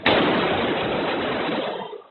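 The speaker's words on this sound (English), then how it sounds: "He hears the gunfire and runs." A single loud, sharp blast with a long, noisy decay, like a gunshot echoing in an enclosed space, from gunfire during a school shooting in Uvalde.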